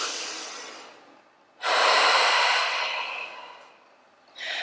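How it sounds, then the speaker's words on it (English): Long audible breaths during a home workout, a slow exhale fading out, then a strong deep inhale-exhale and the start of another, close and without speech. "Take a long breath here."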